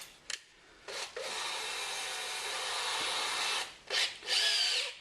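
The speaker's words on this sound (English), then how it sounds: "Right, we'll get on and drill this." A power drill bores 6.5 mm holes for M6 bolts through a Land Rover Defender rear spare wheel carrier: two short bursts, then a sustained grinding run of about three seconds, then brief bursts again. No talk.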